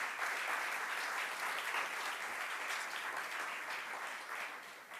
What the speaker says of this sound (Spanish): pido a los tres al unísono un aplauso para todos ellos